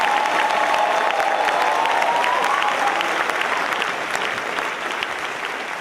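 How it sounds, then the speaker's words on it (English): An audience at a keynote event applauds steadily for several seconds, dense clapping that fades slightly toward the end. "Big round of applause for Councilwoman Gail Cheneyfield Jenkins."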